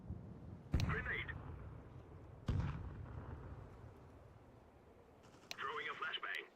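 Two heavy grenade blasts in a shooter video game, each a sudden booming burst with a rumbling tail, separated by a couple of seconds, with a voice talking faintly in between.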